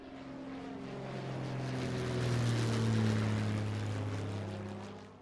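An airplane in flight gives a steady broad engine roar with a low droning hum that swells gradually toward the middle and then eases slightly, continuous with no talking.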